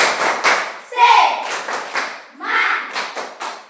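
Classroom of students performing a rhythmic spirit clap chant, bursts of patterned group claps separated by short pauses, mixed with voices calling out together in a school setting in Merauke.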